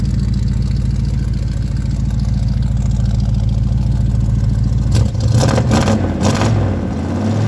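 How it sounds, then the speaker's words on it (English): A cold 1985 Chevy C10 engine idles with a low steady rumble, then is revved in a few quick bursts near the end, each rising sharply and dropping back, close and loud with no talking. "I'm gonna rev it up so you can hear it"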